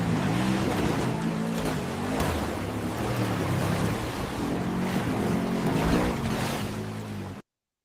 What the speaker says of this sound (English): we see a car kind of, you know, racing through the mud water, and we don't just hear the engine of the car, but we also hear water splashing up